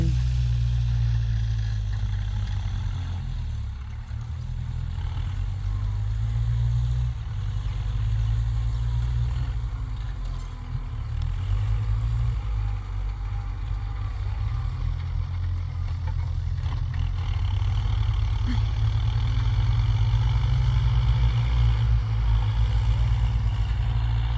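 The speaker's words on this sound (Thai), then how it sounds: "สภาพรถไถก็จะประมาณนี้แหละเนาะ" A farm tractor engine runs while plowing a rice field at dusk. It makes a loud, steady, low rumble close by that keeps going throughout with slight swells in level.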